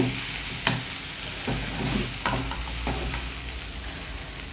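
Spicy Andhra-style Guntur chicken with coriander stirred in a pan, a continuous loud sizzle broken by a few sharp spatula scrapes and knocks.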